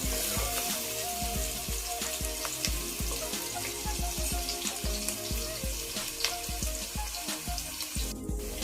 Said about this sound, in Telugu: ఉల్లిపాయలు సగం కూడా వేగినాయి